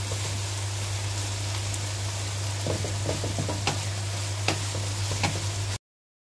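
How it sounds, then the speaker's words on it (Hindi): Carrots frying in oil in a pan, a continuous soft sizzle over a steady low hum, dotted with scattered crackles and light taps, close and alone without talk. "गाजर को हमने 2 मिनट के लिए भून लिया।"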